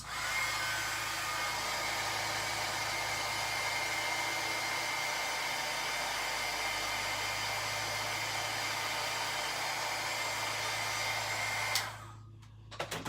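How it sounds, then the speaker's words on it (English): A heat gun blowing continuously for embossing in a paper craft, a steady close whooshing hum that cuts off abruptly near the end. "So I'm going to turn my heat gun on again and emboss this off screen."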